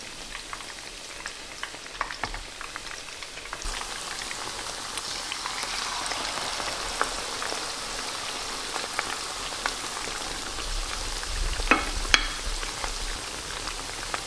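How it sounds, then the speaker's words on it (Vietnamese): Oil sizzles and crackles steadily as shrimp cakes fry in a pan, a continuous close hiss with scattered sharper pops. "Mình có thể chiên một lúc 3 cái"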